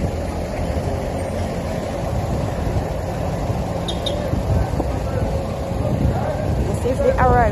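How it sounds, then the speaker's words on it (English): Busy vehicle traffic outside Donald Sangster International Airport in Montego Bay, Jamaica: a dense rumble of idling and moving engines with a constant low drone and occasional faint higher whines, heard from close by. "Lot of vehicles."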